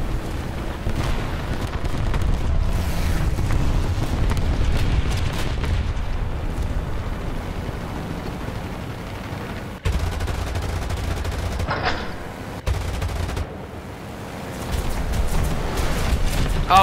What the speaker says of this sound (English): Oh god, flak.